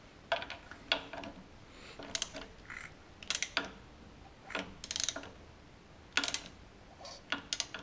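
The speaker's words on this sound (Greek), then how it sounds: "μου ακούγεται σαν να βρίσκει η βαλβίδα πάνω στο πιστόνι" Freshly assembled Honda Astrea 100cc engine with a 56mm bore on its first start, a valve striking the piston, giving irregular sharp metallic ticking and knocking clusters at a fairly quiet level, with no voices.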